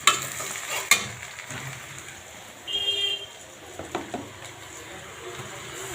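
Chopped onion with whole spices (bay leaf, cinnamon, clove, cardamom) frying and being stirred in a pan for a beef tripe dish, a steady close sizzle with a few scraping knocks.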